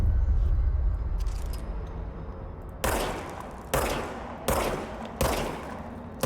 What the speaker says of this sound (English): Now I have a gun. I can fire it.